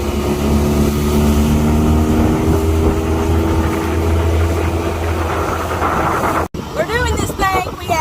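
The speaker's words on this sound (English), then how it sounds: "Lake Havasu on the rubber duck dinghy boat tour thing" A motor dinghy engine drones steadily and loudly throughout on Lake Havasu, with water and wind noise, briefly cutting out near the end before resuming with voices.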